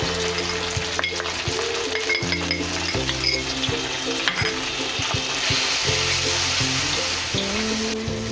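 Chopped tomatoes, ginger and spices fry loudly in a pan while being stirred. A dense, continuous sizzle is broken by repeated scraping and clinking strokes of the spoon.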